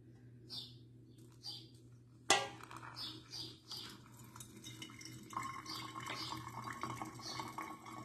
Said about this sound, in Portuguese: Agora a gente vem com a água.